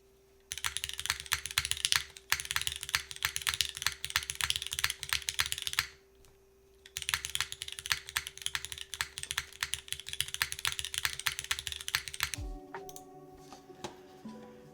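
Continuous typing on a Neo60 Core O-ring mounted mechanical keyboard produces dense, rapid clacks in two bursts separated by a short pause, close and fairly quiet, with no voices.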